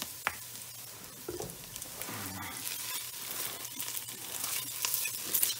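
Meatballs sizzle and fry in a skillet with a little added oil, a steady close crackle and hiss broken by clinks and scrapes of a utensil in the pan.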